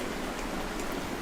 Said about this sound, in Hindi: देखिए हमारे यहाँ बारिश हो रही है